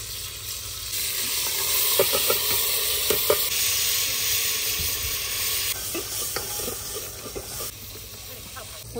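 Garlic, green chili and tomato frying for a tadka in a village kitchen in Pakistan, a steady close sizzle and hiss with scattered clinks of stirring, and a voice speaking faintly in the background.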